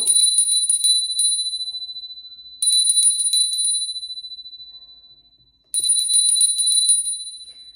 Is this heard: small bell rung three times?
yes